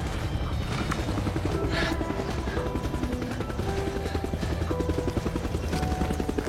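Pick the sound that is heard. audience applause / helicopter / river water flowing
helicopter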